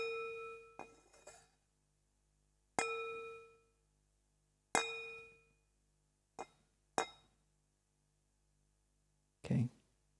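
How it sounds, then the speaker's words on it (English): A meditation bell is struck five or six times, each clear metallic ring sustaining and fading into silence at irregular intervals, close and alone with no talking. "When I ring the bell,"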